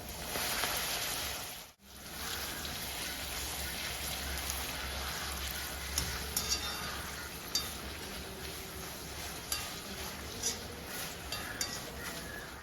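Papadam frying in hot oil for a Kerala-style chammanthi sizzles with a continuous crackle, briefly dropping out near the start, then carrying on with sharp pops and small clinks scattered through, no talk.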